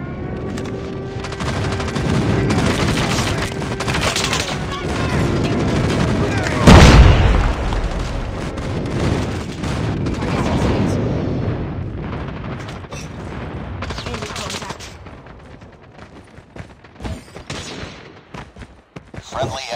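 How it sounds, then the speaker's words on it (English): Airstrike explosions and gunfire from the video game Call of Duty: a dense, continuous wash of booms and rapid shots with one heavy impact near the middle, staying loud throughout before thinning out into scattered bursts toward the end. "Airstrike incoming."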